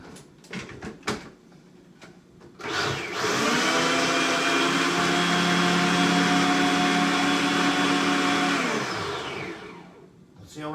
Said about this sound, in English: You know my blender, how much noise it makes.